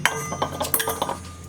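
Brown sugar and cinnamon are stirred together in a bowl for a cinnamon roll filling, giving a quick run of light utensil clinks and scrapes, close and fairly faint.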